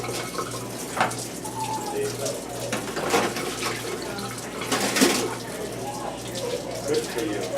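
Water runs steadily from a tap into a tub set up for cleaning instruments, a soft continuous splashing with a few light knocks and clatters over it.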